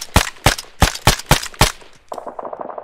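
Six loud gunshots fire in a steady rhythm in the video game Arma 3, on the Stratis map, followed by a quieter rapid burst of automatic fire further off.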